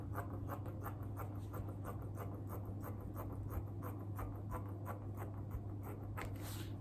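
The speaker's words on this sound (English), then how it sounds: "I'll now go ahead and cut this side out." Scissors cutting through fabric for a plus-size wrap top, a steady run of close, rhythmic snips and scratchy slides over a constant low hum, with no talking.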